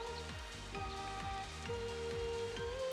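Game rain in Final Fantasy XIII makes a continuous light shower of patter beneath droning background music and a repeating low rhythmic pulse, fairly quiet and unbroken, with nobody talking.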